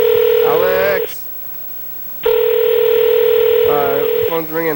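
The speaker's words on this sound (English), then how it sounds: "The phone's ringing." Loud steady telephone ring tones sound on a call, a long tone, a second of near silence, then the tone again with warbling pitch steps near the end.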